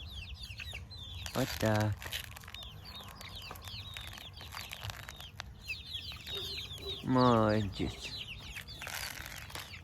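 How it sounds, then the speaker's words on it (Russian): Hungry farm chickens cluck and chatter continuously at moderate distance while someone speaks briefly and calmly over them, with two louder close calls rising above the flock. "Птицы проголодались?"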